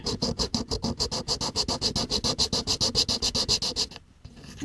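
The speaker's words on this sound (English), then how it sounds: "Just to sand this flat and make it fresh again." A plastic engine part from a Lindberg 1934 Ford model kit is sanded flat with quick, even back-and-forth strokes. Close and clear, about two dozen rhythmic scratchy rubs run steadily, then stop abruptly.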